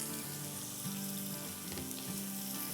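Salisbury steak patties sizzle and fry steadily in a hot pan, a loud, continuous crackle with a faint tonal hum underneath and no speech.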